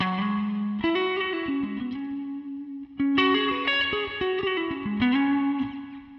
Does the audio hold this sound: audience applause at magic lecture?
no